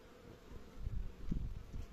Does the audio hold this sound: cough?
no